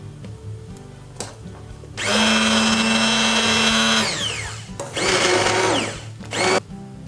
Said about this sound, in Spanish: Y lo trituramos.